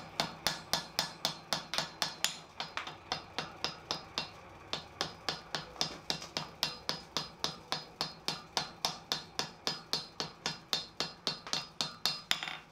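A hammer pounds a vice barbell as it is forge welded in a swage, with dozens of rapid, evenly spaced ringing metal strikes pausing only briefly. The blows are close and crisp.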